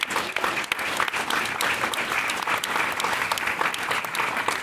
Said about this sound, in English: Give them a round of applause because they are awesome